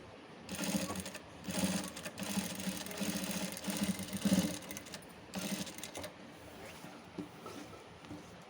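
A sewing machine runs in steady bursts, stitching a folded-in edge of thread piping on fabric; the close, busy mechanical whir rises and dips for several seconds with no voices.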